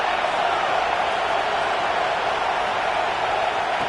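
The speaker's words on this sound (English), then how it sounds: "This crowd ready to make its presence known." Football stadium crowd roaring in a steady, dense wash of noise that holds evenly throughout, distant and diffuse with no distinct voices standing out.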